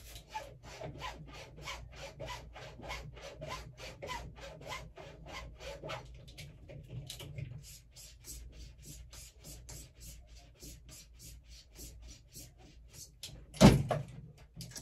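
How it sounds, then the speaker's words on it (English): A straight razor being stropped on a strop in quick, even back-and-forth strokes, a run of soft swipes that then thins out, with one sharp knock near the end, close and quiet. "We'll go ahead and strop 10 and 10."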